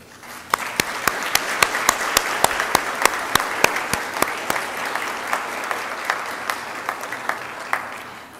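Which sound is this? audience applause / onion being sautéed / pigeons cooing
audience applause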